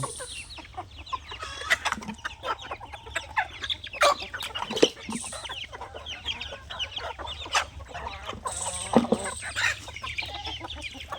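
Backyard chickens, including an Aseel fighter breed, cluck steadily and closely in a busy flock with bird chatter throughout and a few louder squawks.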